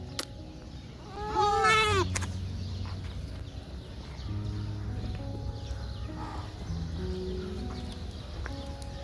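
Young goats bleat on a goat farm. One clear, wavering bleat rings out near the start, over a low, steady background of farmyard noise and faint shuffling.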